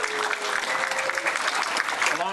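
An audience at an annual community awards ceremony breaks into steady applause, a dense even patter of clapping lasting a couple of seconds with a faint voice or tone threading through.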